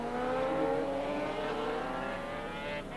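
Two racing motorcycles at Oran Park in 1984, one a 2-stroke and one a 4-stroke, scream past together in a close duel, a faint, steady high-revving engine drone with no talking.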